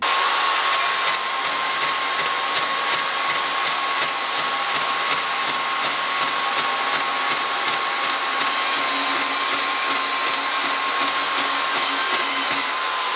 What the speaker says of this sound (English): now we're going to cut the bar stock at 6 inches